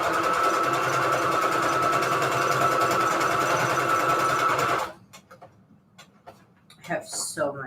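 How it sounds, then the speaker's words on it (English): A sewing machine stitches paper strips onto journal cards, a fast, even mechanical chatter up close that stops abruptly midway, after which faint handling noises and a voice follow. "Let's get these sewed up."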